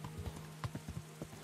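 Horse hooves clip-clop at a steady walking pace in the medieval video game Kingdom Come Deliverance, a run of evenly spaced close, moderately loud knocks with no talk over them.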